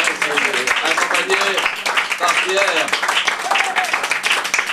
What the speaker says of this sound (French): on peut encore l'applaudir très fort